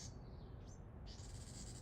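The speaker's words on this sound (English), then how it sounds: "Do you hear that crazy sounding bird?" An odd-sounding wild bird calls outdoors, a faint high whistling cry that rises and holds, heard at a distance over steady background noise.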